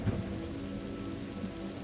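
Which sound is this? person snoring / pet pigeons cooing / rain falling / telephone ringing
rain falling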